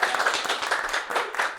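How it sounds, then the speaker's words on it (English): Steady clapping from a small audience at a poetry event, welcoming poet Meg Hemmings, continuous and fairly close with no voices over it. "Give her a big round of applause"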